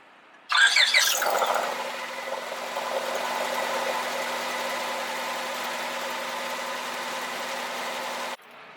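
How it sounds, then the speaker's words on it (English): A 1998–2002 Honda Accord 2.3L four-cylinder engine cranks and fires with a brief squealing burst, then settles into a steady, even idle that continues close by until it cuts off. "I'm just gonna start it, make sure that everything works fine"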